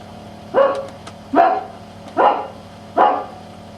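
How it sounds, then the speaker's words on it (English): A dog barks four times at an even, unhurried pace, each bark clear and moderately loud against a quiet background. "in the distance you could hear the dogs barking"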